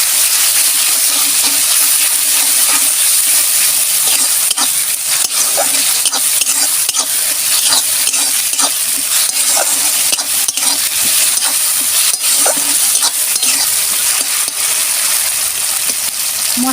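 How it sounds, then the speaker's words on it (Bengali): A paste of ginger, garlic, cumin, mustard and poppy seed fries hard in a pan, giving a loud, steady sizzle with sharp spattering crackles and stirring scrapes throughout. "মশলাটা একটু ছিটকাচ্ছে"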